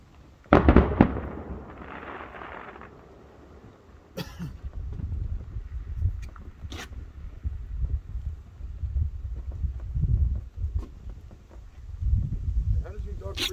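A July 4th fireworks display over Jonesport, Maine is heard from far away, with soft low booms scattered through the clip. Muffled crowd sounds and a cough sit close by, and one sharp near pop comes early.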